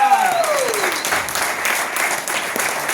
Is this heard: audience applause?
yes